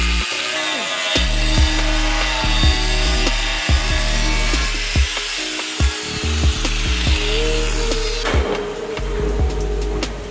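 A power saw cuts loud and close through a solid metal part on a K24-swapped Peugeot race car, grinding steadily with repeated rhythmic bursts and shifts in pitch as the blade works through the piece.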